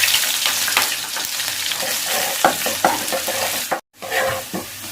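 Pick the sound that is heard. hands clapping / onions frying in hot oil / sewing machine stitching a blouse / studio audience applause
onions frying in hot oil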